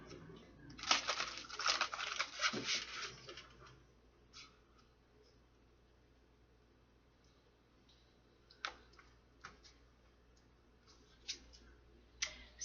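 Soft riffling and clicking of tarot cards being shuffled close by, a dense burst early on, then scattered taps and flicks after a quiet stretch.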